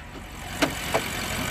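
The 4.4-liter bi-turbo 32-valve V8 of a 2016 BMW Alpina B6 idles with a steady, even hum, broken by two brief clicks partway through.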